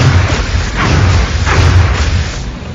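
Reaction fire in XCOM: Enemy Unknown, loud booming shots and bursts hitting in a steady rapid sequence, with heavy low thuds and no talking over them.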